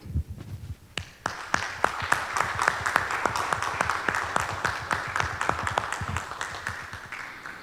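A council chamber fills with sustained applause as a tribute in a municipal session in Laranjal Paulista, many hands clapping densely and steadily for several seconds, with no talk over it.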